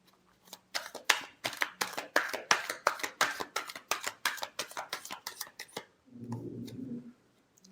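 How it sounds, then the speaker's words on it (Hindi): Tarot cards are shuffled close up in a rapid run of crisp riffling slaps, about two dozen sharp strokes. They stop near the six-second mark, leaving a short soft rustle before a final tap. "Last shuffle."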